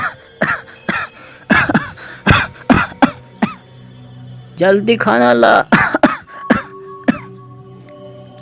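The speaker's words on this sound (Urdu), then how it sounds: "آپ کو تو بہت کھانسی ہے" A cartoon man coughs repeatedly in an animated Urdu story, harsh throaty bursts scattered among speech from other characters talking around him.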